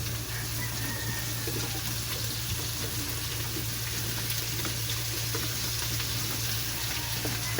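Hotdogs frying in a pan with oil and a splash of water, cooked for sopas: a steady, close, dense sizzle runs throughout, mixed with light watery bubbling and faint stirring, with a low constant hum beneath.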